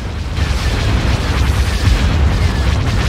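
Artillery in an Empire at War Star Wars mod fires without a break, a dense, loud rumble of booming explosions and blasts with no clear gaps, in a game battle.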